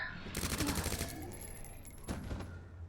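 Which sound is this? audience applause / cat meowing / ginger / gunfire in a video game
gunfire in a video game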